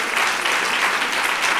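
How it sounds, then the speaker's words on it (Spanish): Audience applause for a young contestant, Lucas, at a children's reading-aloud competition, a dense, steady patter of many hands clapping throughout the short stretch with no voices over it. "Un aplauso a Lucas."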